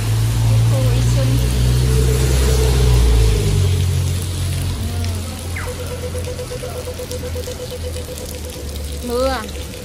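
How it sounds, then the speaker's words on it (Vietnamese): Heavy rain pours down at the Yishun bus interchange in Singapore, a dense steady hiss over low engine rumble, with brief faint voices and a short tonal whine near the end. "Mưa ầm ầm."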